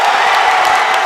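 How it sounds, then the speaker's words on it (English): Crowd at a high school boys basketball game roars in a loud, sustained wash of cheering and applause, steady and dense throughout the brief moment with no pauses. "Crowd goes crazy"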